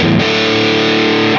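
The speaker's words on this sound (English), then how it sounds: "I can turn the ring modulator off and just use this as a really cool kind of a filthy overdrive" An electric guitar rings out through a Digitech iStomp Gonkulator pedal with its ring modulator switched off, giving a loud, filthy overdrive; one thick, saturated chord sustains for about a second and a half before cutting off.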